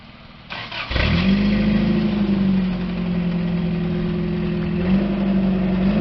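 Rebuilt old-school monster truck engine starting, then running close and loud with a steady deep rumble and a brief rev near the end.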